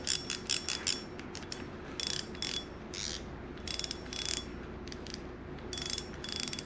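A Penn Fierce II surf fishing reel's drag clicks out in fast ratcheting bursts, close and crisp, separated by short pauses over a low mechanical hum.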